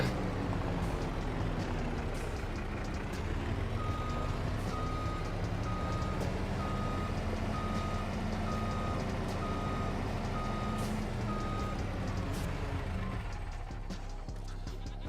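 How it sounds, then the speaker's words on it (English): A Mack truck backs up in Farming Simulator 25, its reversing alarm sounding a steady series of about a dozen evenly spaced beeps over a constant low engine drone, with no talk. "Right, and we'll park the Mack truck in the shed."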